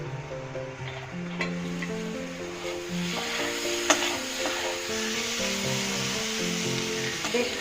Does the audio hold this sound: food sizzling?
yes